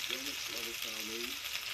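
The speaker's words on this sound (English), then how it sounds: "I'm right here in the kitchen cooking me some nice, delicious hamburgers. And it is frying on the grill." Hamburgers frying in a frying pan in a home kitchen, a continuous hissing sizzle heard at close range while a voice talks over it in short bursts.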